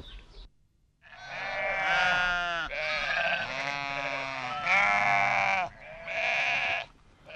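A flock of sheep and goats on a mountain farm bleats in long, wavering, overlapping calls close by, one after another with brief gaps, with no talking.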